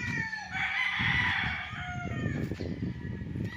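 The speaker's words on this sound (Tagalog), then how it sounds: "Ito yung mga kulungan ng mga manok." Roosters and chickens kept in game-farm cages, a crow ringing out over a busy background of clucks and scuffling, moderately near, with more crowing fading in and out.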